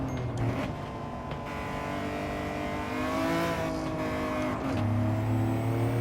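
A Nissan Skyline engine driving in Gran Turismo 7 around Spa, revving up and down through gear changes with rising and falling pitch, a steady close in-car drone with no talk.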